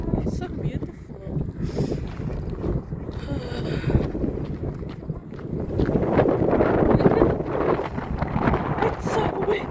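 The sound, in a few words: strong wind outdoors at campground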